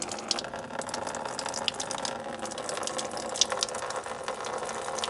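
Coolant drains from the radiator of an LS1 Camaro with the cap off, a steady splashing trickle of liquid, close and continuous throughout.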